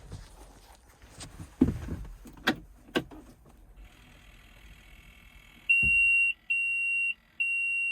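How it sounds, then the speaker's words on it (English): The cab alarm of a Case shovel beeps in three long electronic tones near the end, each about half a second apart, after some scattered knocks and clunks. No one speaks. "Beeping."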